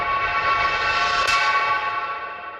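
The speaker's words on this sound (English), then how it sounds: "I also made a reverse reverb out of it" A sustained metallic ringing wash of a reverse-reverbed keg hit that swells and smears, with a bright flare near the middle before gradually thinning out.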